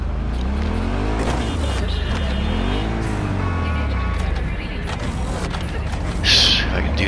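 A car speeds through city streets in the Cyberpunk 2077 video game, its engine roaring and revving steadily with tire noise, loud and close throughout.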